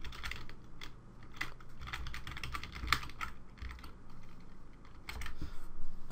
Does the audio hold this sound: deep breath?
no